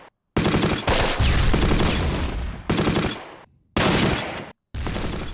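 Bursts of gunfire from a WW2 strategy game, Close Combat: several loud, dense volleys of machine-gun and rifle fire separated by brief silent gaps, with no talk.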